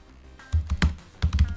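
Keyboard typing while writing in Google Docs, two short bursts of quick, close key taps separated by a brief pause, with no voice.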